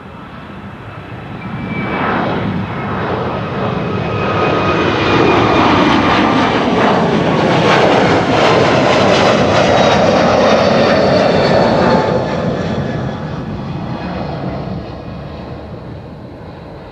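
A JetBlue jet airliner bound for Boston takes off from Schiphol's Kaagbaan runway 24, a loud broad engine roar swelling within two seconds, holding steady with a whining tone, then slowly fading as it climbs away.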